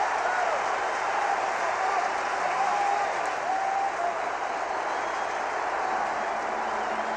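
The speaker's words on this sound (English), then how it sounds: "And listen to the cheer from the UCLA Rooters." UCLA fans cheer in the stands at a 1990 USC at UCLA college football game; a dense, steady crowd roar holds at an even level throughout, with a commentator talking over it.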